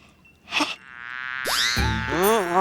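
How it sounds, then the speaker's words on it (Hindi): A housefly buzzes loudly and close, rising and swooping in pitch with cartoonish, wavering tones and a brief whooshing burst before it, in a fantasy superhero TV episode. "आ गई ये मक्खी, मुझे फिर से परेशान करने चला।"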